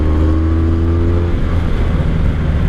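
A 1984 Honda Sabre VF1100S motorcycle is ridden on an open road, a loud, steady engine drone with constant wind rush, heard close from the rider's position and without speech.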